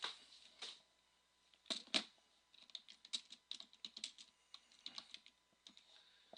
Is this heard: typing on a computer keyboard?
yes